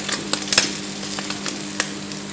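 Slices of fatty Spam fry in an ungreased pan over medium-high heat, giving a steady close sizzle with scattered crackles and pops and no talking.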